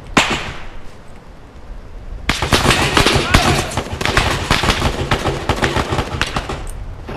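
Rapid gunfire from a shooter inside a building cracks out in dense, loud bursts after a quieter opening, volleys overlapping in quick succession.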